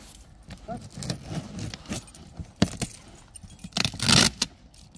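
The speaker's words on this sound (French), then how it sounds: "Bon, allez, on déballe ça tout de suite." An electric scooter with a 60-volt, 20-amp battery is unboxed from its cardboard box: close scraping, rustling and rattling bursts, with the loudest handling near the end and voices at times.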